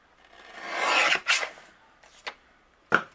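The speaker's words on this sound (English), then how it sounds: "So I'm going to trim a little bit off the top," A paper trimmer slicing cardstock: a close, rising rasping swish as the blade runs along the sheet, followed by a few short scraping clicks as the trimmer is reset.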